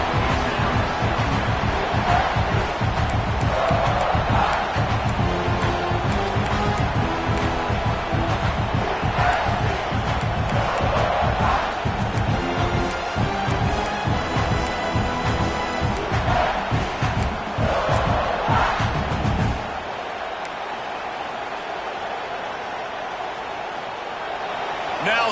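Football stadium crowd at an Ole Miss versus South Carolina game roars loudly and continuously, swelling and dipping for about twenty seconds before dropping to a quieter rumble, with a commentator talking over it.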